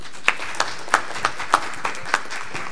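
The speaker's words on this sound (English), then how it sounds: "Give him a round of applause." Sparse, spaced-out clapping at a conference forum, about eight distinct claps in a slow, uneven rhythm, fairly close and moderately loud, like a small group applauding.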